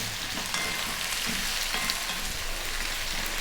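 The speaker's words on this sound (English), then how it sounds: "2 tablespoons roughly chopped garlic. Again, another 3 minutes on this above medium heat, stirring" Chopped garlic frying in a pan over above-medium heat gives a steady, close hiss of sizzling, broken by faint scrapes as it is stirred, with no voices.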